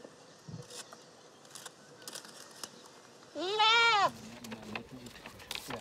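Goats kept for meat bleat on a farm, one clear wavering bleat in the middle standing out loudly above quieter background noise and faint scattered sounds.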